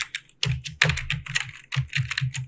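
Quick, uneven keystrokes clatter on a computer keyboard as text is typed, a dense run of close clicks with short pauses and no speech.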